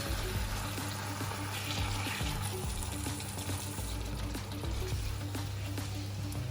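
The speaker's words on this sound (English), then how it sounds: "add about half a tin of tomatoes. Fry that up." Half a tin of tomatoes fries in a pan for chicken curry, giving a steady, close, wet sizzle and bubbling that runs unbroken, with faint clinks and no talk.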